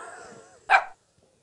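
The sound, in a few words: dog barking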